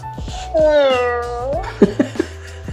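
A small Emo desktop robot plays a synthetic cat meow, a rising-and-falling tonal cry lasting about a second, followed by a few short, clipped chirps, loud and close with no talking.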